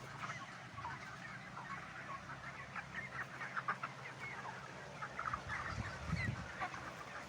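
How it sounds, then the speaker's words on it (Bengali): Broiler chickens of about two kilograms, in a poultry shed with ventilation fans, cluck and call in a busy overlapping flock. The sounds rise in louder bursts toward the end over a low steady room hum. "দেখি একটু ব্রয়লার দেখাই আপনাদেরকে, মুরগি দেখাই।"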